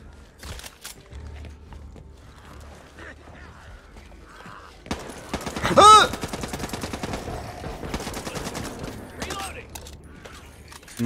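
Gunfire in the zombie shooter Back 4 Blood, a burst of loud shots and clattering mechanisms rising midway after quieter stretches, with a voice speaking over parts of it.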